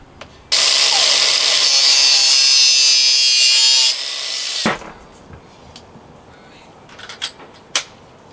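A power tool cuts through awning clothesline cable in one loud, steady burst of about three seconds, then trails off into quiet handling clicks and small knocks nearby.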